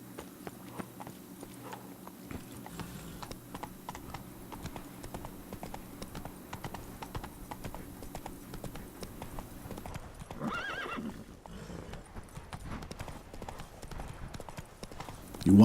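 Roach, Geralt's horse in The Witcher 3, trots and gallops in a steady stream of close hoofbeats with a whinny, under background music and occasional talk.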